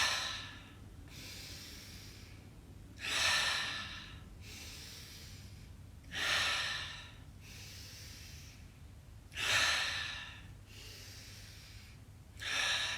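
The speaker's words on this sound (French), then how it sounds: "On va prendre 5 grandes inspirations par le nez" Slow, deep breaths in through the nose and out through the mouth during a morning neck and back strengthening routine, four long exhalations spaced about three seconds apart, close and quiet over faint room hum.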